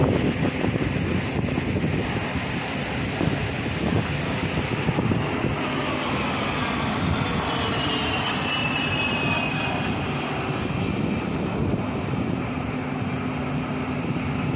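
A Brazilian Air Force training aircraft's engine spooling up, a steady loud roar with rising whine that holds throughout, heard outdoors with heavy wind buffeting the microphone and no talk.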